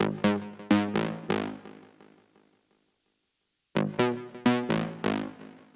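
A remix passed through a mid-side EQ plays as punchy, bright percussive hits in a bouncy pattern. About a second of silence splits it before the pattern returns, with no voices.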